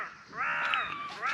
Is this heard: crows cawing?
yes